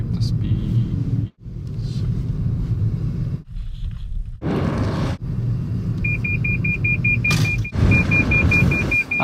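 Interior rumble of a Toyota Prius with Toyota Safety Sense pulling away and holding speed, a continuous low road and motor drone with brief dropouts, a few short whooshes and a repeating dashboard beep tone, while people talk.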